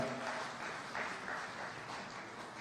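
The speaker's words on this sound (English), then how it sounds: "please let's recognize them with a warm clap" Audience at the launch of the Kenya Young Parliamentarians Association gives a warm round of applause for the young MCAs, a dense, steady patter of many hands clapping at moderate volume, sustained through the whole stretch without speech.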